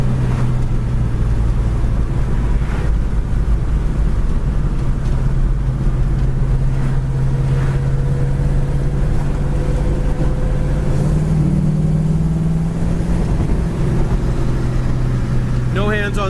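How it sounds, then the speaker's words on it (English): A 1969 Chevelle Super Sport runs down the road, its engine droning low and steady with road and wind noise throughout, the pitch rising a little near the end, while someone talks over it. "This car goes awesome down the road."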